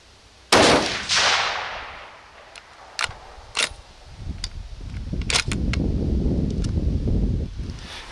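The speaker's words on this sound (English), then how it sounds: "let's shoot it one more time to confirm zero" Sharp rifle gunshot fired while zeroing a thermal optic outdoors, a loud crack followed by a fading rumble, then several fainter impulsive knocks and a rising low background rumble.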